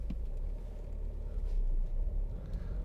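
Inside a 2017 Ford Focus 1.5 TDCi Titanium X on the move, a low steady engine and road rumble hums quietly throughout with no talk.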